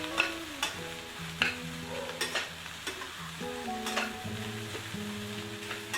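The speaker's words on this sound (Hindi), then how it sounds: "इसे स्टर करते रहेंगे एंड इस तरह से इसकी एजेस को स्क्रैप करते रहेंगे" Egg bhurji frying in a pan is stirred and scraped: a spatula repeatedly scratches and taps the metal over a steady sizzle, with sharp scrape bursts about every second and no speech.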